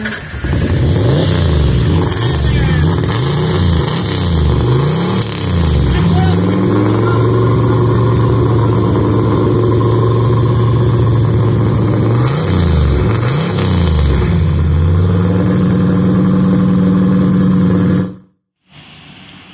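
Turbocharged Foxbody Mustang engine running loud and close, rising and falling revs in repeated blips, then holding a steady rough idle before more revving and an abrupt cutoff near the end.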